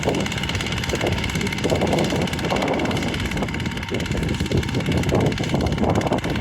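A 10-horsepower Chinese walk-behind tractor engine runs steadily and loudly up close, a continuous dense mechanical drone with a rapid chugging texture and no pauses.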